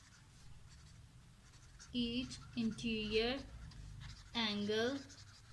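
A math solution is written out by hand in quiet, scratchy strokes. A voice starts talking partway through and continues over the faint writing.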